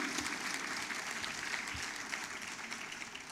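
An audience at a Marathwada Liberation Day festival claps in a steady, even stretch of applause, heard at a distance and fairly faint.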